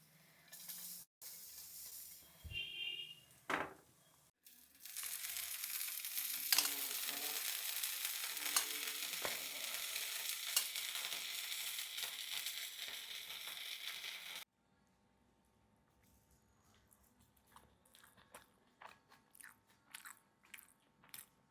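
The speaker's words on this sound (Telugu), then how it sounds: "ఇక్కడ అట్టేసేసేనివ్వండి, మళ్ళీ" Dosa batter spread on a hot pan gives a steady, loud hiss and sizzle for about ten seconds. Scraping and clattering come before it, and quieter clicks and taps follow once the sizzle stops.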